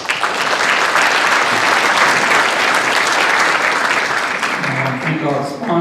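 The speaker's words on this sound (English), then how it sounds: "Please give them a round of applause." Sustained, full applause from an audience at a 50th anniversary Vietnam War commemoration, loud and even throughout, with a voice starting to speak near the end.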